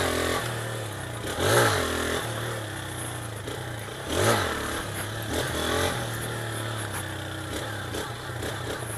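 A Honda Titan 160 motorcycle idles roughly on a trail, its exhaust rising in two short revs before settling back to a steady chugging idle, close by.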